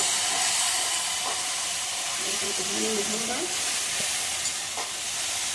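Spice masala with green chillies and black pepper is stir-fried in a pan, giving a loud, continuous sizzle and hiss with occasional stirring scrapes.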